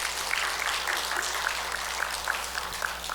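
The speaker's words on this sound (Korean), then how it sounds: "하나님께 영광의 박수를 한 번만 더." Church congregation clapping in praise after a choir performance at a Korean worship service, a fairly soft, continuous patter of many hands with a faintly regular pulse, heard from some distance.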